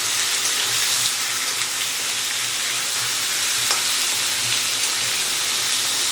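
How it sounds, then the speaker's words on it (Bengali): Mutton pieces fry with onions in hot oil in a pan for Lahori mutton, giving a steady, close, loud sizzle that runs unbroken with faint stirring and no talk. "তো এখন মিনিট 2 মতো আমি মাংসটাকে পেঁয়াজের সাথে একটু ভেজে নেব।"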